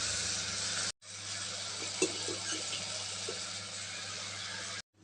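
Sliced bottle gourd sizzles and fries steadily in a hot pan, a dense continuous hiss with a brief break near the start and a few soft stirring knocks.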